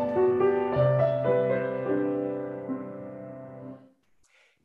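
A piano plays a short theme built from the digits of pi, meant to symbolize Pike's Peak, with a few sustained notes and chords ringing and slowly decaying, close and clear, followed by a brief breath at the end.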